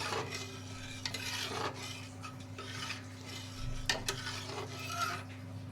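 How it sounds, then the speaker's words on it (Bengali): Dal for idli sambar being stirred after tamarind water is added, with soft scraping strokes of a spoon against the pot over a low simmer, close and fairly quiet. "দিয়ে আবারও ভালো করে নাড়িয়ে নেব। তেঁতুলের জলটা মিক্স করে দেব।"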